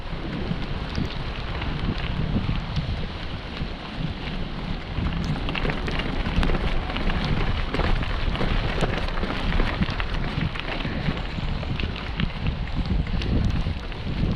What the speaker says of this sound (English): Mo, in the rain.